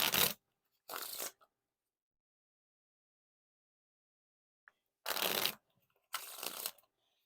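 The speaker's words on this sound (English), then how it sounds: "Now time for the riffle shuffle or bridge shuffle." Jerry's Nugget Yellow Vintage Feel playing cards, a thick and slightly clumpy deck, given a riffle-and-bridge shuffle: two pairs of crisp fluttering bursts, close and clear, separated by a long silence.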